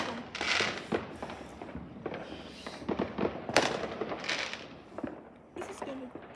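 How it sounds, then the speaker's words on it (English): Outdoor Bonfire Night fireworks crackle and pop in repeated sharp bursts at varying distances, with people talking over them in the dark. "Oh, I thought that was a fireworks show."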